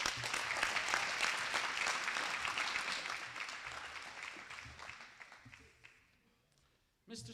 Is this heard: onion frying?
no